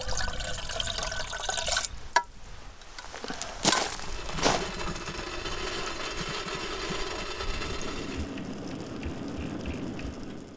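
Water runs from an on-demand camp water system at a high-desert campsite, a continuous hiss and trickle with a few sharp clunks and surges partway through, close and moderately loud.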